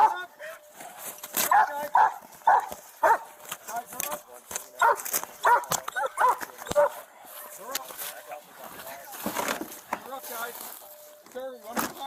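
A police dog barks and yips in short bursts while officers shout commands during an arrest, loud voices overlapping the dog throughout.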